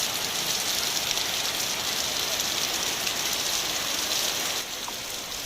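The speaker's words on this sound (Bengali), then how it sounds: "প্রচুর বৃষ্টি হচ্ছে আজকে।" Heavy rain falls in a dense, steady hiss on a dark morning, continuous and fairly loud throughout with no pauses, easing only slightly near the end, and no voices heard.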